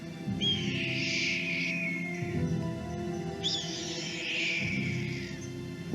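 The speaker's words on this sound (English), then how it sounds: "Red-tailed hawk." Red-tailed hawk call in the game Nancy Drew Ghost Dogs of Moon Lake: two long, harsh descending screams a couple of seconds apart, loud over a low steady background.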